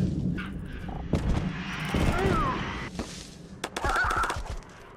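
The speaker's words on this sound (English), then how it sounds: "They're actually shooting at me." Video game gunfire cracks out in several sharp, scattered bursts of shots, some loud and close, mixed with other game noise while a voice talks at times.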